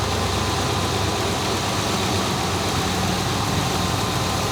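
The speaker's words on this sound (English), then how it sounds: "Might back off the idle screw just a smidge because it's idled up really, really high." A 1979 Camaro engine that sat for years idles fast and high, a loud, steady, close rumble with no change across the moment and no voices.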